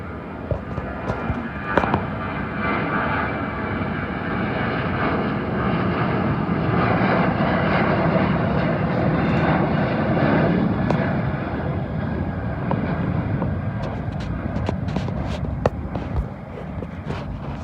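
A Royal Air Maroc Boeing 737-800 roars past at Heathrow Airport, a broad, steady jet rumble holding loud and close for the whole stretch, with a few sharp crackling pops near the end.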